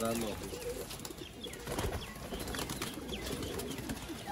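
Pigeons for sale in Sialkot coo in a busy, noisy setting, with scattered wing flaps and rustling blending into a constant background clamor.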